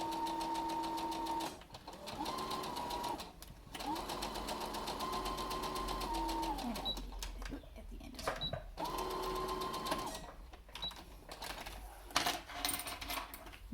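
Sewing machine running a straight stitch along the edge of a zigzag seam on a layered cloth face mask, in several stop-start bursts, close and quiet, with a voice talking in between.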